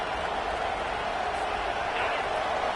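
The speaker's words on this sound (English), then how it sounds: "Listen to this crowd just shaking the girders of this place, trying to help their defense." A football stadium crowd roars in a dense, steady wall of cheering noise, loud and continuous without pauses, urging on the home defense.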